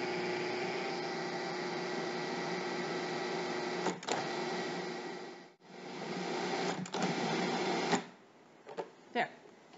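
An electric mixer whirs steadily while blending almond coffee cake batter with egg white and almond extract. The close motor hum cuts out briefly a few times, then stops near the end, leaving short clatters.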